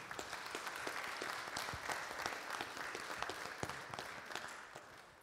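A congregation at a Sunday church gathering applauds Rachel with a sustained round of many hands clapping, dense and even, with a few sharper individual claps standing out near the front.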